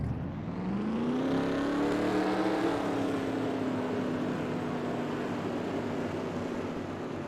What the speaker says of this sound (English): Engines are firing up for heat race number 4.